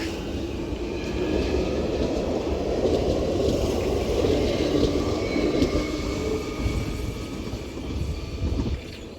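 A London Underground Jubilee Line 1996 stock train pulls away from Dollis Hill toward Wembley Park, a sustained rumbling roar of wheels and motors that swells gently and then eases off.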